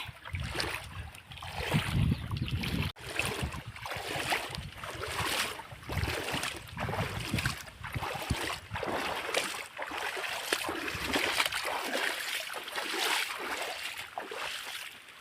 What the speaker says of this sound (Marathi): मी पाण्यामधून उतरते